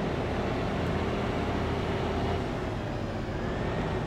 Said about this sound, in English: Listen to the sound of this tractor.